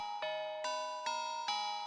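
Bright bell tones in a beat mixed in FL Studio, four evenly spaced chime strikes over a sustained tonal pad, clean and loud with no voices.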